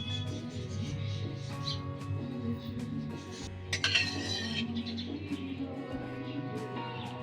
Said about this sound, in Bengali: কড়া আমি 4 চামচ সরষের তেল দিয়ে দিচ্ছি